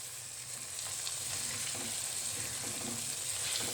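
Khageena, a spiced scrambled egg dish, sizzles steadily in a pan while being gently stirred, a soft continuous frying hiss with faint scraping, close and fairly quiet, no voices.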